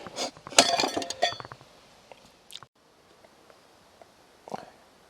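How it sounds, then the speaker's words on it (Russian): A knife cutting open a tin can gives a burst of sharp metallic clinks and scraping at the start, then a few scattered taps and one more clink near the end in a quiet room. "Вот так вот консервную банку отрежем."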